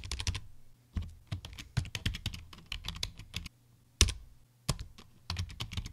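Rapid computer keyboard typing while entering text into a configuration file on an Ubuntu Linux home file server, close and crisp, in bursts of quick keystrokes separated by short pauses.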